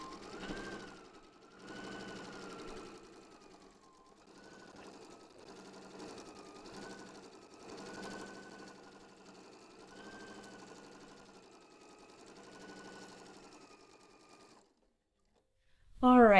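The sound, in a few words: sewing machine top stitching pillow backing pieces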